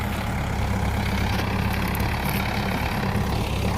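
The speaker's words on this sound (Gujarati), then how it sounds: "અને આ જો ટ્રેક્ટર" A farm tractor idles steadily at a field, its low continuous engine rumble close and unchanging throughout with no talk.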